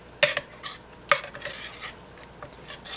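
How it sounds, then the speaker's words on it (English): Rice being stirred in milk in a pot, with a few sharp spoon clinks against the pot and softer scraping swishes in between, close by and with no talking. "Just keep stirring this when you put the rice in, because you don't want the bottom to burn"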